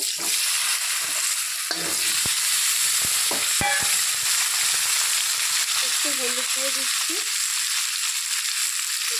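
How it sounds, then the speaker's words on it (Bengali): Potatoes and pointed gourd frying in oil, a dense continuous sizzle with a few sharp clinks of a utensil against the pan, with brief murmured speech faintly underneath. "ওই তেলের মধ্যে আলু পটলগুলো ভেজে নেব"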